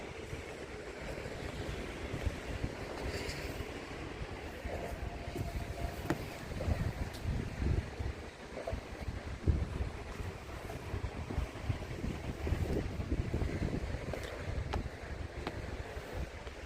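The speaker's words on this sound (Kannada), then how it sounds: "ಸಮುದ್ರ ಹಿನ್ನೆಲೆ." Sea waves and wind heard from a warship at sea: a steady, fairly faint wash of water and breeze with no clear breaks, and no voices.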